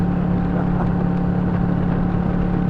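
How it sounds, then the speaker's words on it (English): A motorcycle engine held at high revs in fourth gear gives a steady, loud, close drone with an even tone and no let-up, and nobody speaks over it. "I thought he was revving a bit high"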